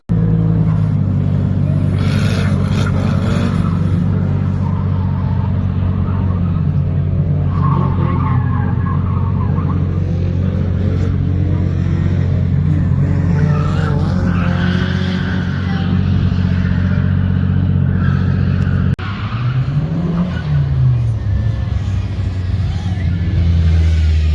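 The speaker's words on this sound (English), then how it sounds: "a lot of cars on the track." Race cars circling a track at a season-opening motorsport event, engines droning loud and steady throughout with tire squeals and a skid, plus a rising engine sweep near the end; a voice speaks briefly over the roar.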